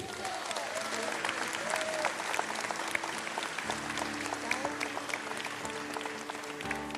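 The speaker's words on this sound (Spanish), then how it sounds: "Aplauso forte para" A party crowd applauds Antonieta, a steady wash of clapping heard alongside a sustained musical hum and faint voices.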